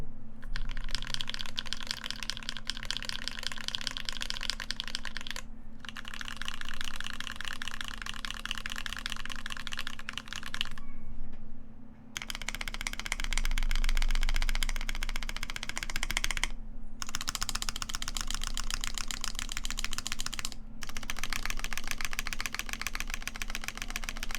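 Steady, rapid typing on a Keycult No.2 stainless steel mechanical keyboard with lubed switches, close and continuous with a few brief pauses, carrying a slight scratchy clack over a low background hum.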